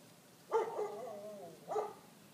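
A dog barking outdoors, two separate barks about a second apart, the first longer and drawn out, heard fairly close over quiet background.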